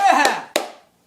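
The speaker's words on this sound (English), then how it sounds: "Give a round of applause for Dick!" Two sharp hand claps, a small group applauding briefly for a 76-year-old guest, separated by about a third of a second and quickly fading into silence, with voices cheering under the first.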